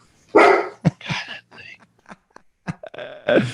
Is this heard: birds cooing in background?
no